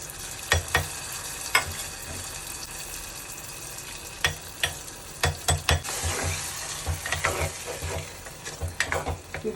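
Grated coconut roasting in a pan for erissery, a soft continuous sizzle broken by sharp scraping and stirring clicks of a spoon against the pan, close by with no talking.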